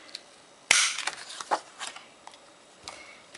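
3/4 inch circle punch cutting white paper for an eye, one sharp close snap followed by a few softer clicks and crinkles, then a fainter final click.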